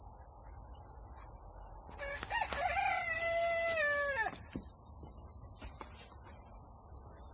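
In a morning vegetable garden, a rooster gives a single drawn-out crow lasting about two seconds and falling off at the end, over a constant high buzz of insects and faint background rustle.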